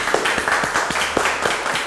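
A group of people clapping together at a music competition show, a dense run of sharp hand claps close by for about two seconds with no talking.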